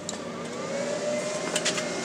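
Commercial-grade 6090 CNC router with a VFD and richauto control powering on, a steady whirring hum with a faint rising tone, close and continuous with no talk.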